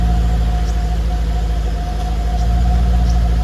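An old car engine idles steadily nearby, a low rumbling drone with a constant hum running through it, unbroken from start to finish with no voices.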